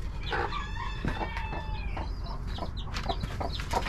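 A mother hen and chickens cluck and call continuously close by, with busy overlapping bird sounds and a steady low background hum.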